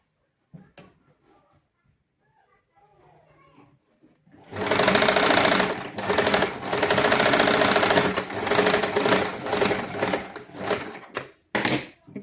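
A tailoring-class sewing machine stitches fabric: quiet handling sounds first, then a loud, fast mechanical run of several bursts with short pauses between them.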